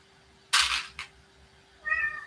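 A domestic cat gives a sharp, loud meow, then a brief second cry, and after a short pause a clear tonal mew, all fairly close in a quiet indoor room.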